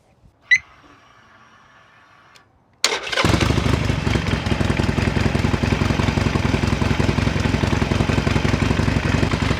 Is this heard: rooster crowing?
no